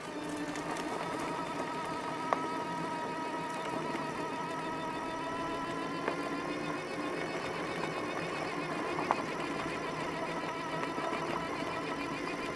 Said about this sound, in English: on a hill, if I decide to stop pedaling and give it a throttle